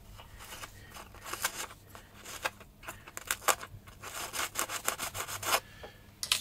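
Rhythmic scraping and grinding bursts close by as a small drill bit enlarges a hole in an F3K glider wing for a servo, repeating unevenly with brief pauses.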